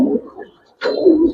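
Pigeons of Garrah and Musaldom colouring breeds, some moulting, coo in a cage close by: a low throaty coo, a brief pause, then a second rolling coo.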